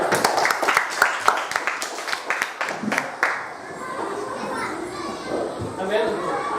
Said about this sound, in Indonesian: Tepuk tangan dulu teman-temannya.